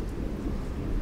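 Thunder from a storm with lightning over Blackpool is a brief, low, continuous rumble, close and steady through the clip with no talk.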